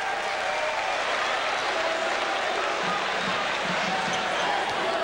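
A basketball arena crowd roars and applauds continuously during Pitt at Penn State, an NIT tournament game, a dense loud wall of cheering with basketball bounces faintly audible beneath it.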